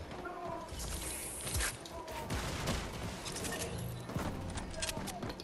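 Dense gunfire bursts from a Fortnite match pile up in a busy, loud mix with clattering game effects running throughout.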